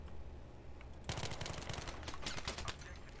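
An AK-74M assault rifle fires rapid bursts in Battlefield 3. The dense, close, punchy shots start suddenly after a second of low background rumble and continue as a fast rattling volley.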